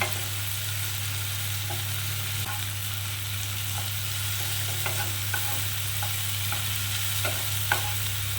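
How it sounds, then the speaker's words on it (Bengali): Tomatoes frying in hot oil over a high flame for a mung dal with catla fish head, giving a steady close sizzle with scattered soft stirring clicks and a low hum underneath, no voices. "বাড়িয়ে বাড়িয়ে একটু ভেজে নেবো যতক্ষণ একটু টমেটোগুলো নরম হয়ে আসবে"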